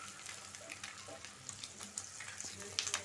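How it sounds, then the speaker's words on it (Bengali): An egg fries in a pan during home cooking, with a steady, fairly quiet sizzle and crackle and a few light clinks near the end. "আমার ডিমটা ভাজা হয়ে গেছে"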